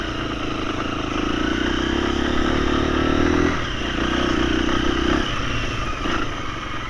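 A 2024 KTM 350 dirt bike fitted with a 13-tooth front sprocket is ridden on rough, rocky woodland singletrack, its engine droning loud and close with shifting revs and some clatter.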